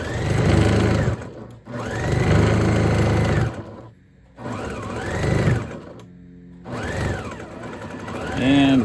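A sewing machine stitches the armholes of a t-shirt being made into a shopping bag. The motor whirs loud and close in three long runs, separated by short pauses, and rises and falls in pitch as the speed changes.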